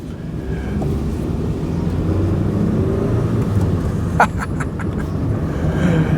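A Proton Satria car in rough running condition, driven on the road on the way to an MOT test, gives a steady low engine and road rumble that stays fairly loud throughout, with a brief higher rattle near the end.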